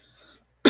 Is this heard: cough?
yes